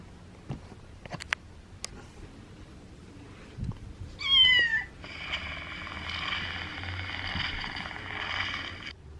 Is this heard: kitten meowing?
yes